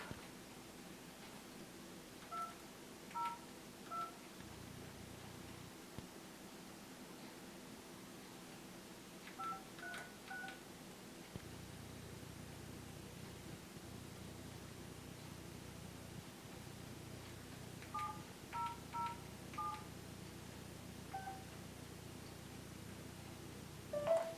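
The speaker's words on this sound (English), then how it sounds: "I want to call James. And DCTV. Call him and get the staff" Phone dialing during a call being placed, several short groups of faint keypad tones over a steady hiss, with no talk.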